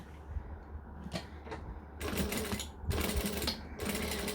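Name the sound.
sewing machine stitching a fabric pouch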